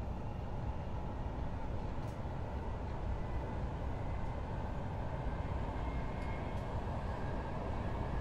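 Bybdzf passenger coach running in Train Simulator 2022, a steady, dense low rumble of rolling wheels and carriage noise throughout, with faint brief clicks from the track; no talking.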